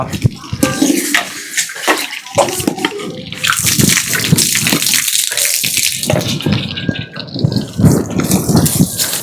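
Water splashes and gurgles steadily as gooseberries (nellikai) are washed by hand, a continuous close sloshing with drips, while voices talk intermittently over it.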